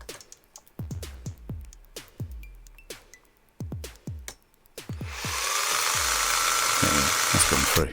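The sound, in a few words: power drill with 4mm bit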